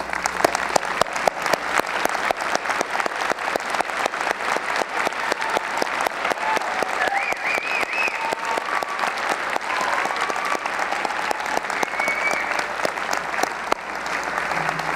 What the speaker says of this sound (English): Could I ask our honors graduates to just stand so we can applaud your achievement?